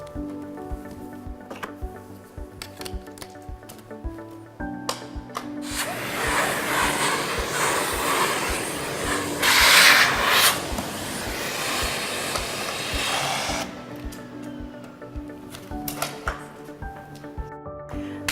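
Miele Blizzard CX1 vacuum cleaner with a dusting brush vacuuming furniture: a loud, close suction whoosh for about eight seconds, rising briefly in the middle, over soft background music.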